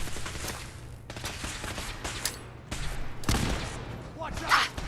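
Gunfire in the video game Fallout 4, sharp shots and bursts scattered through the clip over game ambience, with a person speaking briefly in between.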